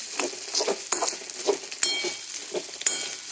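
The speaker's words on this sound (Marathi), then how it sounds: "म्हणून मी ह्या कढईमध्ये फोडणी टाकले" Crackling, spitting sizzle of tempering spices hitting hot oil in a wok, with sharp pops and light clinks over a quiet hiss.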